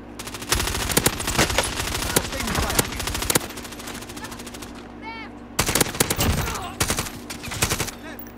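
Sustained machine gun fire in the Warzone shooter, loud rapid bursts in long rattling strings with a short pause midway, while voices talk faintly underneath.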